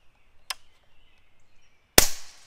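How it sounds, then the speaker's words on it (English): A regulated .25-caliber Air Venturi Avenger PCP air rifle fires two sharp, close shots about one and a half seconds apart, the second louder and followed by a brief ringing tail, over a faint low hum. "we're going to shoot a mag for you so you get to see the chronograph"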